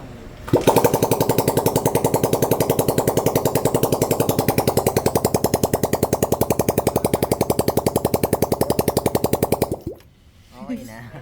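A motorcycle engine fired up right after an oil change with S-oil runs at a steady, rapid, loud idle for about nine seconds close by, then cuts off abruptly into quiet.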